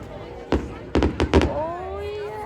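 Bonfire night fireworks going off nearby, a sharp bang followed by a quick cluster of cracking pops, then a rising whistle that trails away as a low rumble persists.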